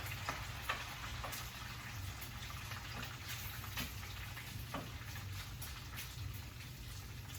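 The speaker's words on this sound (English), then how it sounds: "Let me give our bacon a little stir here." Bacon frying in a pot while being stirred, a quiet, steady sizzle and crackle with faint occasional scraping, heard close but at low level throughout.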